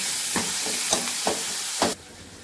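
Tomatoes go into onions frying in a pan, giving a continuous sizzle broken by several sharp stirring scrapes at an irregular pace, before the sizzle suddenly drops away.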